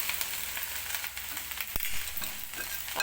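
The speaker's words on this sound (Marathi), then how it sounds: "तर भेंडी जी आहे ती मी व्यवस्थित तेलामध्ये परतवून घेतलेली आहे." Okra sautés in oil in a pan, giving a continuous close sizzle with light stirring and scraping taps and one sharp knock midway.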